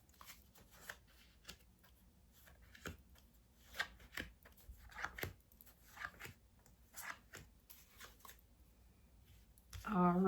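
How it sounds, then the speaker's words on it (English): Six tarot cards laid out one by one on a table for a reading, a series of soft, close slaps and slides spaced across several seconds. "I'm going to lay out the 6 cards"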